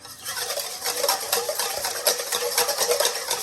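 An egg is whisked in a bowl for a Korean spicy fried chicken batter, giving a rapid, steady scratchy rattle that stays close and continuous throughout, with no voices.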